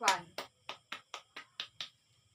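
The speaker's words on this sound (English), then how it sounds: "So let's have a clap to group 1." Several crisp, evenly spaced handclaps ring out in a classroom to cheer the winning group after a socialization activity, about eight distinct claps followed by quiet.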